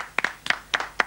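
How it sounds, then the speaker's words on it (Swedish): Applause from a studio audience on a Swedish MTV programme comes as a few sparse, separate claps in uneven bursts, fairly quiet, with no talk. "Och vi ger en applåd."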